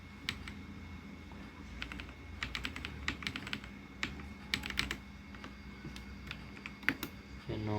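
Someone types on a computer keyboard while configuring a Cisco router, producing bursts of quick, close, crisp key clicks in an uneven rhythm with short pauses between runs.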